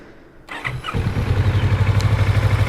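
A Kawasaki Vulcan S 650 motorcycle starts up with a brief starter whir and catches, then settles into a steady, loud, close idle with an even throbbing pulse.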